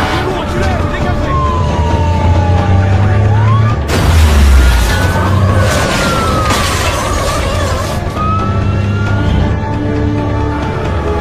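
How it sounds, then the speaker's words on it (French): A wailing fire truck siren rises and falls through a loud, chaotic action-film scene with crashing noise and shouting voices. "C'est quoi cette sirène, Danny?"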